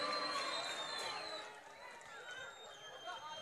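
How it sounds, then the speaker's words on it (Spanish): A pageant crowd at a town fair in Puerto Berrío applauds and cheers loudly at a distance, a continuous wash of clapping and whoops with whistles over it. "Pido un fuerte aplauso para Stephanie García Uribe."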